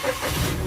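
Suzuki Karimun Wagon with a three-cylinder engine starting up: a short, close, steady low rumble of the motor catching and running, with no voices.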